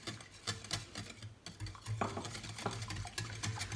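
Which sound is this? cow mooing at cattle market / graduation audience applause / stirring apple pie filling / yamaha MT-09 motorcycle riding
stirring apple pie filling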